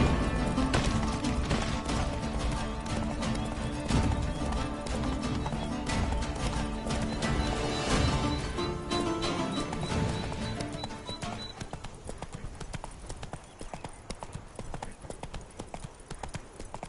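The horse Roach's hooves clip-clop at a steady walking rhythm, fairly close and loud, then grow quieter and sparser over the last few seconds as the horse slows.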